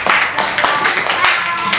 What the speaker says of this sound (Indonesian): bagi aplaus ke temannya dulu